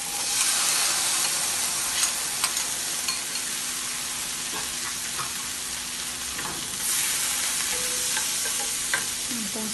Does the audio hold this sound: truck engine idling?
no